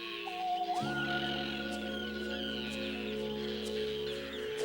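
Small seabirds call at a nesting colony on the Farne Islands off northeast England. A steady, moderately faint chorus of thin squawks and chatter carries on throughout, with a few calls standing out.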